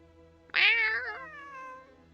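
A single drawn-out cat meow from a video game, sudden and clear, rising sharply then sliding down into a long, fading tail over a faint steady background hum.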